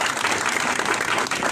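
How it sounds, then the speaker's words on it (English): Dense, steady applause from a crowd, sustained throughout without a break. "Let's appreciate them with another hand clap."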